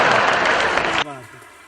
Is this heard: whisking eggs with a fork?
no